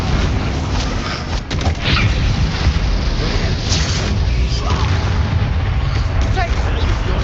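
The Bombarda spell in Hogwarts Legacy goes off as a loud, dense explosive barrage that roars continuously at close range, with booming impacts layered over the din of battle.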